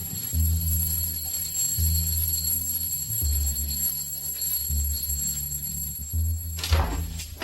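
An alarm clock rings at home on a school morning, a steady loud pulsing ring with high tones that repeats in bursts through the whole clip, with no voices over it.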